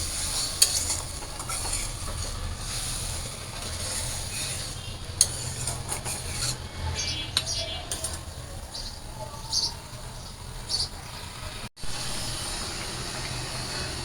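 Fish curry gravy simmering in a pan, a steady low sizzle and hiss with occasional stirring clinks, fairly quiet and continuous.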